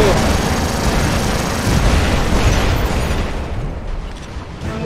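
A loud rocket explosion in the robot combat game War Robots, a dense, roaring blast that fills the whole stretch and fades slightly toward the end.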